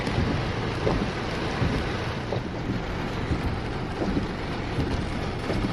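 Steady rain falls as a dense, loud hiss of constant patter with a wind-like rumble underneath, unbroken for several seconds and with no talking.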